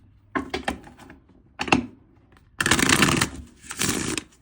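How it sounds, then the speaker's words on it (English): Oracle cards are shuffled by hand in several quick, close rustling bursts, the later ones longer and fuller, with brief quiet gaps between and no talking. "So what I'm going to start with are some oracle cards."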